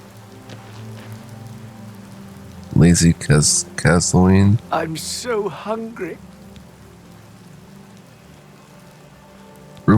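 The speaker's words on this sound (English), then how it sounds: "You're standing out in the rain, sir." Steady rain patters across the outdoors in the video game The Elder Scrolls IV: Oblivion Remastered, continuing under a few seconds of speech.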